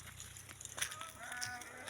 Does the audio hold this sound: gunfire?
no